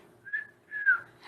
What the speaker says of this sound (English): Sometimes people whistle too.